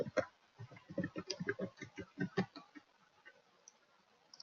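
Typing on a computer keyboard during office admin work: quick, irregular bursts of crisp key clicks, close and fairly loud for about two and a half seconds, then a few sparse, quieter taps.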